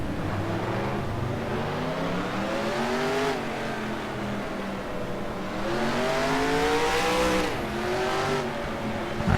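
Race car engines in NASCAR Racing 2003 roar continuously, pitch climbing and falling through gear changes and laps, loud and close with a burst near the end.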